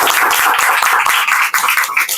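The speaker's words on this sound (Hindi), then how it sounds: "एक बार तालियों के साथ करेंगे।" A crowd claps at the grand opening of a trust's office, a fairly close patter of individual claps that holds steady with only brief dips.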